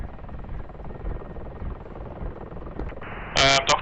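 UH-60L helicopter in the DCS flight simulator, a steady rhythmic rotor thump and turbine drone throughout, with a brief burst of electronic tone near the end.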